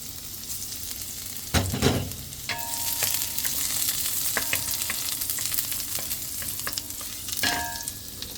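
Garlic dropped into a hot pan for chicken tinola, a steady close sizzle and frying hiss with a few clinks and stirring scrapes over it.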